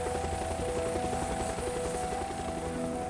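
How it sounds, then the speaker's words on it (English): A German rescue helicopter arriving during a 2009 European civil protection emergency mission gives off a loud, steady rotor and engine drone with sustained tonal whine, continuous and close throughout, with no talking. "A German helicopter has arrived to provide assistance."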